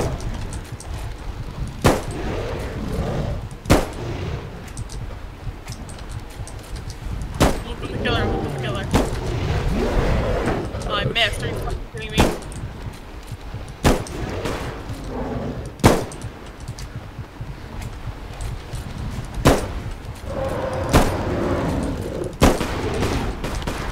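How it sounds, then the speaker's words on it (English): Gunshots fired at a tree in a hunting-Bigfoot video game, a dozen or so sharp single reports spaced a second or two apart, loud and near over a continuous background rumble. "I'm shooting a tree, man."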